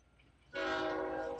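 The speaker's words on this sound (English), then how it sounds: "Train horns, loudest horns in the world." A loud train horn starts abruptly after a quiet moment and holds a steady, harmonically rich blast until the end.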